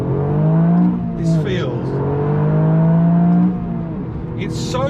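Abarth 695 hot hatch engine revving hard under acceleration toward 7,000 rpm, a loud steady rising drone with a brief gear-change dip, with a voice talking over it.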